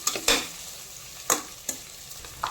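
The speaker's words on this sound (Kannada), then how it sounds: "ಇದಕ್ಕೆ ಶುಂಠಿ ಮತ್ತು ಬೆಳ್ಳುಳ್ಳಿ ಜಜ್ಜಿಕೊಂಡಿರೋದನ್ನು ಹಾಕ್ತಾ ಇದ್ದೀನಿ." Crushed ginger and garlic hit hot oil in a pan, giving a few sharp sizzling bursts and scraping stirs spaced irregularly over a low, steady background crackle, close and fairly quiet, no voices.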